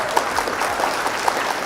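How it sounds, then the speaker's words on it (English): Applause for Sigma, a longtime supporter, during a live Flesh and Blood trading card game stream, a soft, thin patter of clapping that carries on steadily for a moment at low level with no talk. "Round of applause for Sigma."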